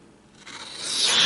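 A CRKT Symmetry knife blade slices through heavy-duty stock paper, a short rasping scrape that builds from quiet to a bright, loud hiss over about a second.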